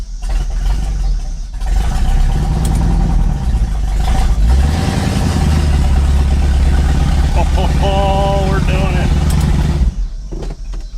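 Close, steady running of a barn-find Lincoln Continental engine after 35 years, with a swell of revving midway and a brief high whine near the end, while a person speaks over it.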